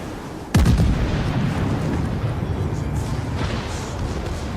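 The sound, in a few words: battleship main gun salvo in World of Warships video game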